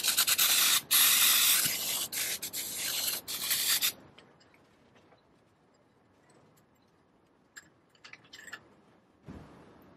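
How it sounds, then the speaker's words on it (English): Aerosol brake cleaner is sprayed onto a Rotax Max kart clutch in several loud, hissing bursts over about four seconds, followed by quieter workshop handling noises and small knocks. "you can use some brake cleaner to get rid of any residual sort of oily deposits"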